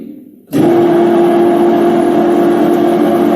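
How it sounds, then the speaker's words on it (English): A machine spindle motor starts abruptly and then holds a steady, close hum with a clear constant tone and no speech. "So now the spindle is running."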